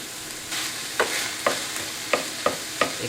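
Ground beef with onions and garlic sizzles on high heat in a pan, a steady hiss broken by roughly six sharp scraping stirs of a utensil, close up with no talking.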